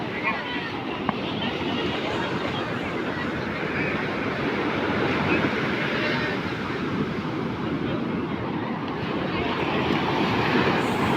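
Sea waves breaking on the shore at Puri, a loud, continuous roar of surf mixed with gusting wind buffeting the microphone, with voices faintly underneath.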